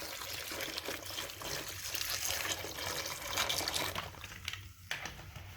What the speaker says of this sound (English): This is just ordinary tap water.